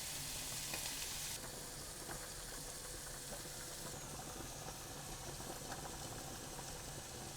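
Prawns fry in a pan for garlic prawn linguine, a steady, dense sizzle with crackles and pops throughout, close and continuous, with no talking.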